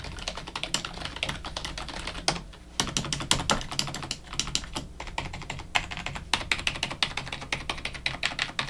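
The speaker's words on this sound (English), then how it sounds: "So here's a quick little typing test for you guys." Fingers type steadily on a Roccat Magma quiet membrane gaming keyboard, a close, continuous stream of soft, muted key taps with a brief pause partway through.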